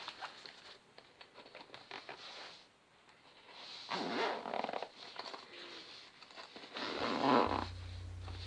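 A Homecube pencil case stuffed with an A6 sketchbook is zipped shut in several strained, uneven pulls, close up, with rustling fabric between the zipper bursts and no talking.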